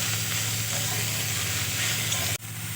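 Mustard greens frying with garlic and green chilli in a pan, giving a steady, close sizzle that runs evenly and then drops out abruptly near the end.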